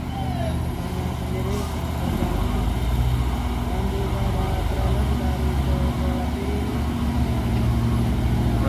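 Dump truck engine labouring hard while pushing a stalled truck uphill, a loud steady diesel drone with rumble throughout; someone talks over it.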